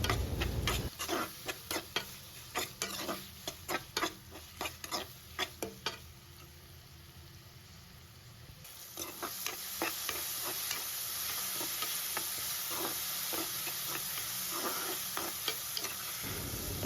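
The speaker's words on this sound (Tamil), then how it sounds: "சேர்த்துட்டு நான் நல்லா தக்காளியை வதக்கிக்கிறேன்." Tomatoes with a little rock salt are stirred in a pan, giving a run of sharp, rhythmic scraping clicks before the sauté settles into a louder, steady sizzle.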